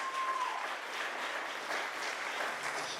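Steady crowd applause for three congressional candidates at a Virginia candidate forum, an even wash of many hands clapping at moderate volume throughout.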